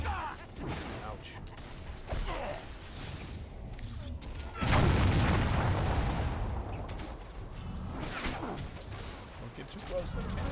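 A great cannon fires in the fantasy battle game Warhammer Online, a heavy boom swelling midway and rumbling out over ongoing battle clatter and scattered impacts.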